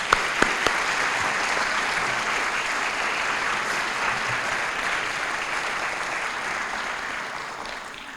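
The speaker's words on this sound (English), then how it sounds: "Can you join me in giving them a big round of applause?" Audience applause for emergency responders at a city State of the City address, a steady, dense clapping that sustains for the whole stretch with a few sharper claps near the start, then tapers slightly at the end.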